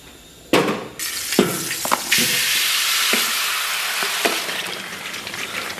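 Pork ribs and glass noodles with tomato, green pepper and garlic sizzle in a stew over high heat as the sauce reduces, a steady loud hiss punctuated by several sharp stirring scrapes and clatters, with no talking.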